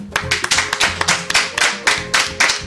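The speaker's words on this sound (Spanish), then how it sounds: "El aplauso que le estudio para esta mujer, por favor." Studio audience clapping for a woman guest on a Cuban television magazine show, a brisk run of sharp hand claps from a small crowd, close and lively, with no talking.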